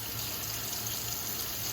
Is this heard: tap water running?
yes